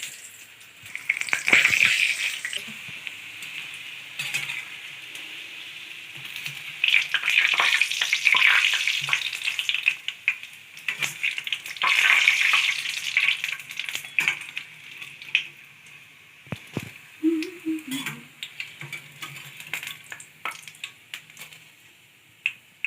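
Vegetable lollipops deep-frying in hot oil, a loud bubbling sizzle that swells and eases in waves, with occasional clinks of a utensil against the pan nearby.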